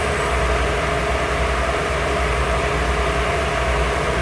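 A ship's rudder steering gear motor runs continuously in a loud, enclosed machinery space, a steady broadband drone with a constant low hum and no pauses or changes in level.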